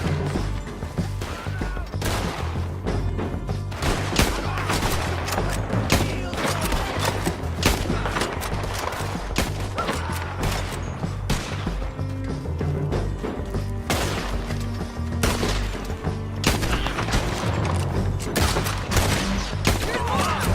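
Dense, continuous gunfire in the video game Red Dead Redemption 2, with rapid overlapping shots, crashes and thuds filling the whole stretch and loud throughout, mixed with shouted voices.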